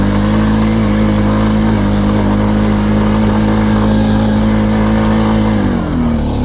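A 1999 Kawasaki Prairie 300 four-wheeler engine revs hard uphill in a loud, sustained, close-up drone, with the throttle held open and the pitch dipping briefly near the end.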